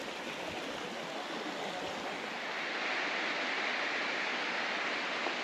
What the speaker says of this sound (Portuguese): Aqui é a cachoeira no limite.